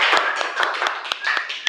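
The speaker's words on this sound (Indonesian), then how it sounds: "Tepuk tangan untuk 8A." Eighth-grade students in a classroom give a short burst of applause, quick irregular claps close by.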